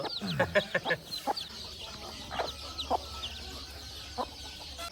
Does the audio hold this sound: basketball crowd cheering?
no